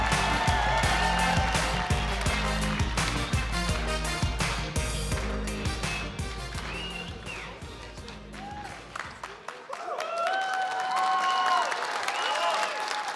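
An audience at an awards show, a comedy premium event, applauds the Blogger of the Year winner with sustained clapping and cheering over loud stage music, fading as the music changes.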